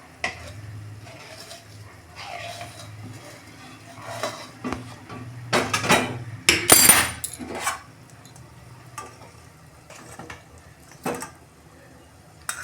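Fried pabda fish is lifted out of the pan, with scattered metallic clinks and scrapes of utensils against the pan, a louder cluster in the middle, over a faint background sizzle.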